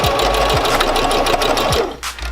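A sewing machine runs steadily while stitching a simple hem, its rapid needle chatter loud and close with a few brief pauses and changes in speed.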